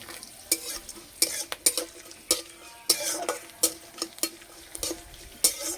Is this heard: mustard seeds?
yes